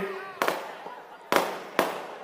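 Firecrackers bursting at an outdoor political rally: three sharp, loud cracks spaced about a second apart, each with a short noisy tail, over a murmuring crowd.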